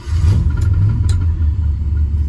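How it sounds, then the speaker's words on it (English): A 1967 Ford Galaxie 427 W-code clone, freshly started after sitting a long while, runs rough with a loud, low, uneven engine rumble close by and a couple of brief sharp ticks over it. "You probably hear the unhappiness in the engine."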